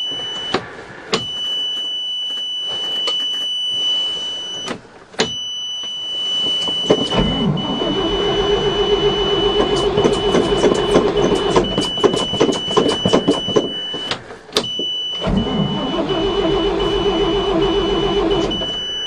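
A 1979 Chevy dump truck with a 427 engine, cold in winter, cranks with rapid starter churning between pauses, then catches and runs in a loud, rough, sustained roar with brief dropouts.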